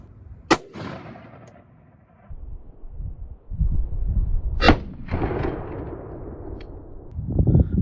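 Sharp rifle reports from an AR-15 fired at an old John Deere tractor outdoors: a loud crack near the start and another mid-clip, each with a brief broadband tail, separated by low rumbling handling noise.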